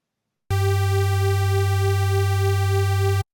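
A saw-wave synth layered over a sine sub bass plays one loud sustained note lasting about three seconds. The deep, bright, buzzy tone starts and stops abruptly and plays alone.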